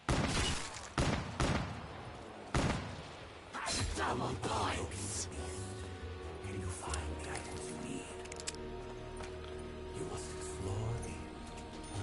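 Call of Duty: Black Ops 3 Zombies gameplay opens with several sharp, loud gunshots in quick succession, then settles into quieter game music and ambient tones.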